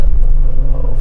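A Mercedes G-Wagon with KW Street Comfort coilovers rolls over undulating road, giving a steady, loud low rumble of engine and road noise from inside the cabin, with no one talking.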